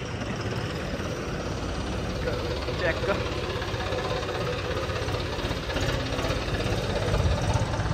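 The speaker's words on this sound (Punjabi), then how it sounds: "ਚੱਲਦੇ ਹਾਂ ਬਸ ਹੁਣ ਆਪਾਂ ਟਰੈਕਟਰ ਲੈ ਕੇ" A tractor engine idles close by with a steady low throbbing rumble throughout, while someone speaks briefly over it.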